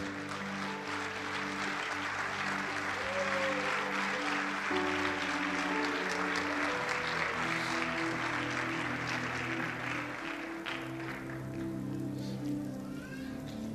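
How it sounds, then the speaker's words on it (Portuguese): A church congregation applauds throughout, a dense continuous roar of clapping from a large crowd, moderately loud with no pauses. "Tome seu assento aplaudindo Jesus, porque Ele é tremendo."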